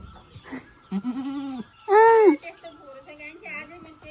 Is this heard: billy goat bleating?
yes